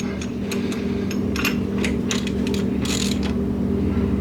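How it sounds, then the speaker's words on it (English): An engine push rod spun by hand while dry-setting valve lash on an old Monte Carlo produces close, steady metallic clicking and light scraping in an irregular rhythm over a constant low hum. "to set valve lash dry like this, we're gonna grab the push rod and start spinning it"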